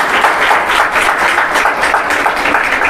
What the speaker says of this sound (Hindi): एक बार पुनः मुसलिम अली जी का तालियों के साथ स्वागत है